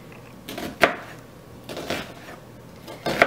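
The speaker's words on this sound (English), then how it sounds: "I'm just going to do kind of a rough chop." A kitchen knife rough-chopping an onion on a cutting board, a few sharp separated chops, close and moderately loud with quiet gaps between them.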